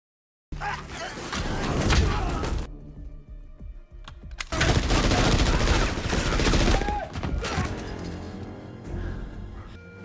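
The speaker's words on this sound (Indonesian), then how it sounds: "tentara bayaran juga datang ke tempat itu dan mereka mulai menembaki Adam Clay" Mercenaries open fire in an action film about a secret agent who keeps bees. Dense, loud volleys of gunfire crackle in rapid bursts, with a brief lull before the shooting resumes.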